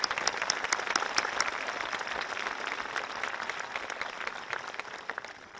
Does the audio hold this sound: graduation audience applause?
yes